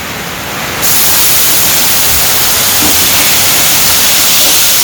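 Malabar spinach greens dropped into hot oil with fried onions give a loud, steady frying hiss that jumps up suddenly after a quieter start and then roars on evenly.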